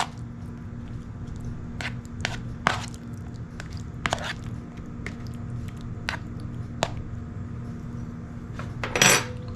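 Scallops are stirred in a pan, with scattered scrapes, clinks and wet squishing over a steady low background hum, moderately close with no speech.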